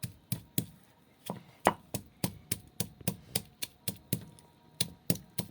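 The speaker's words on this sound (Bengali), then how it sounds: "আমরা শিলে বেটে নিচ্ছি" Roasted dried fish being ground on a flat stone slab with a grinding stone: a regular series of about a dozen and a half sharp knocks and scrapes, close and evenly paced, with no talking.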